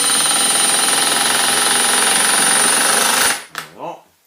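An impact driver drives an Ulti-Mate II Stick Fit screw into soft wood in one loud, rapid hammering burst lasting about three seconds, then cuts off, followed by a quick speaking voice.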